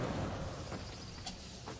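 A lightning attack in the video game Darksiders 3 gives a dense rumbling crackle that starts loud and holds through, with brief sharper bright flashes cutting in partway.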